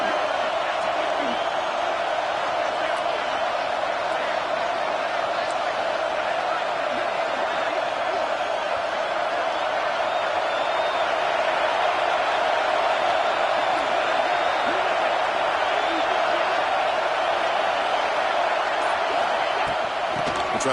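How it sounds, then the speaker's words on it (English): Steady, loud stadium crowd roar swelling on a third-down red zone defensive stand in a college football video game, a continuous wash of cheering with no break for its full length. "This crowd is trying to inspire this defense to make a big red zone stop."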